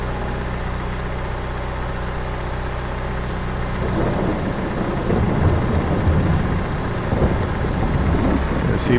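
Rain and rumbling thunder fill a Farming Simulator 22 scene on a Missouri farm, a steady wash of rain with a deep low rumble that swells midway, loud and continuous without talk.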